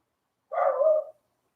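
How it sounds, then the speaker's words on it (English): A single dog bark or short yelp outdoors, one sustained half-second call rising out of silence, fairly clear and moderately near with nothing else heard. "Hey, the dog's back."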